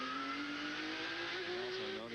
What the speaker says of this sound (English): hitting the brake hard at some points, like right now.